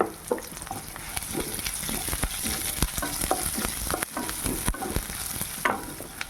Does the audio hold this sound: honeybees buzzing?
no